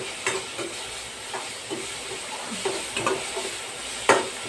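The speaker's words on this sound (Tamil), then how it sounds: "நல்லா தக்காளி வதைக்கணும்" Chopped tomatoes with turmeric powder sautéing in a pan, a low steady sizzle broken by several scraping stirs of a spoon, close and moderately loud, with no voices.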